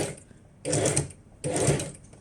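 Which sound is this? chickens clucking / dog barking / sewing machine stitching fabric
sewing machine stitching fabric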